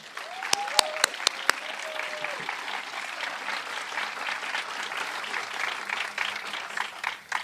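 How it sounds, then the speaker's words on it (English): Audience at a school opening breaking into sustained applause, a dense wash of clapping from a crowd that carries on steadily, with a few sharp close claps and a voice briefly speaking over the start. "Teresa Moon, let's give her a round of applause."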